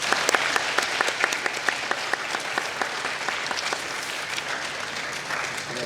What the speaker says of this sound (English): Now let's all applaud them for staying on task.